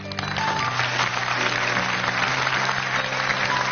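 Sustained audience applause at a stage performance in a May Day television gala, a dense, steady clatter of many hands that holds its level throughout with a faint musical tone underneath.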